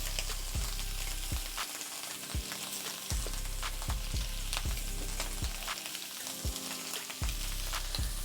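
Shrimp sear in a hot pan for scampi, giving a steady, close sizzle with a run of sharp clicks and scrapes from stirring or turning, spread unevenly across the whole stretch; no one talks.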